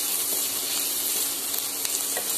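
Ginger-garlic paste frying with onions in a pan for palak paneer, making a steady, bright, hissing sizzle that is close and continuous, with a few faint clicks of stirring.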